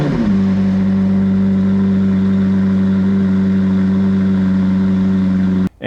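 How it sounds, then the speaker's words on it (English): A McLaren 765LT on its stock exhaust holds a loud, steady, droning engine note close by, with a deep tonal growl that carries almost unbroken before cutting off abruptly near the end. "when you're driving, you get to hear the amazing sound of the stock exhaust"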